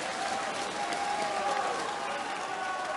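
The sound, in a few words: darts crowd applauding and cheering for Peter Wright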